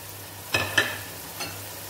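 Roughly chopped tomatoes sizzling and being stirred in a hot pan for chicken biryani, a steady low frying hiss with two quick stirring scrapes and a softer third, close and moderately loud.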